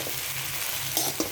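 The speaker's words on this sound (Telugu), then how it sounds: "మధ్య మధ్యలో ఇలా తిప్పుకుంటూ ఉండండి, ఎందుకంటే వదిలేస్తే అవి మాడిపోతాయండి" Gobi florets sizzling in hot oil in a pan, a steady dense frying hiss with a few light scrapes of stirring near the end, close up and without talk.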